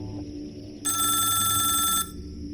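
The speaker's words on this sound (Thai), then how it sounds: "เขาก็ใช้โทรศัพท์ และเสียงโรเบิร์ต เพื่อโทรหาเจ้าของรถบรรทุก" A telephone bell rings in one steady, loud burst of about a second over a low background hum, then stops.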